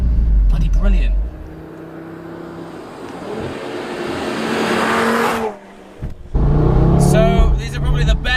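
An Audi TT RS runs on a sunny road with the roof down, its steady engine and road noise rising into a louder push, with someone talking over it.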